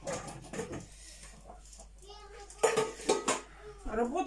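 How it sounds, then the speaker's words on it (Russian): Mixed clean and dirty dishes clink and clatter as they are sorted and set down in a kitchen, with a voice speaking softly and a child's chatter in the background. "Сейчас разберу всю посуду."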